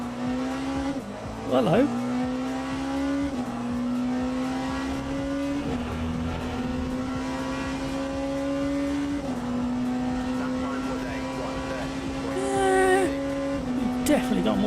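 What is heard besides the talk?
Porsche race car engine in Le Mans Ultimate video game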